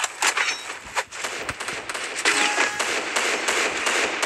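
Rapid gunfire in a mobile shooter's training ground match, a dense run of sharp cracks and bursts repeating close and loud over the whole stretch with no pauses.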